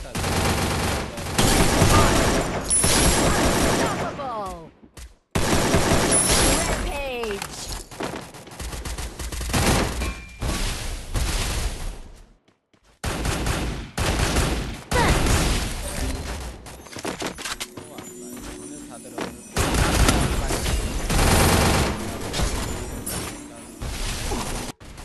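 Rapid AK-47 gunfire in a video game, with loud bursts of automatic shots repeating across the clip, broken by brief gaps and mixed with game sounds.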